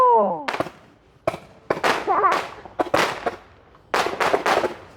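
New Year fireworks and firecrackers going off nearby in a series of sharp, loud bangs with irregular gaps, some in quick double bursts, with a brief whistle at the start.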